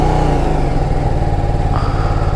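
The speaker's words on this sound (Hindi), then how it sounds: "चलो जी अब ऑन किया जाए बाइक को" A Apache RR 310 motorcycle engine runs steadily close by, a loud, even low rumble that holds throughout with a slight rise in pitch near the end, no talking.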